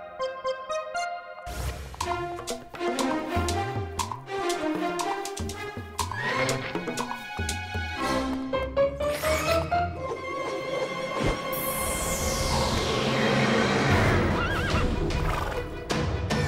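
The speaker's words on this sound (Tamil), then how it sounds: "இது காட்டு குதிரை மாதிரி இருக்கு" A wild horse in a cartoon whinnies over busy background music, with the neighing repeated throughout and clip-clop sounds under a steady music bed.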